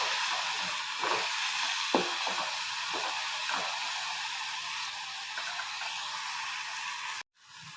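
Potato stuffing for a wheat-flour snack cooking in a pan, a soft continuous sizzle and hiss with a few light stirring knocks, steady and fairly quiet before cutting off abruptly.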